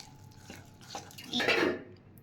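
A spoon stirs a cocoa powder and flour mixture in a bowl, giving a few soft scrapes that swell into a brief louder scraping clatter near the end, no talking.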